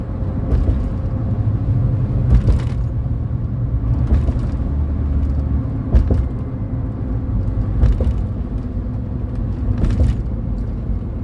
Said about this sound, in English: Truck sound tonight.